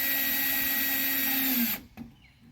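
Power drill driving a screw to fix a scroll trellis beside a downspout, a loud steady high whine lasting nearly two seconds, then stopping abruptly with a brief rattle and a quiet tail.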